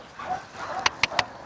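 A German shepherd lets out three sharp, evenly spaced barks close by, after a quieter stretch of soft whining.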